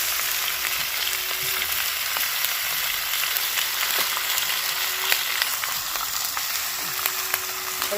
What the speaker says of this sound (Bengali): এটাকে একটু ওলট পালট করে ভেজে দেখো